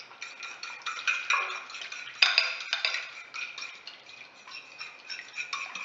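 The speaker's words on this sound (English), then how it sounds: "and then just whisk that together" Eggs and milk whisked together in a bowl, a quick, light, irregular clatter of the whisk against the dish, faint and close, continuing throughout.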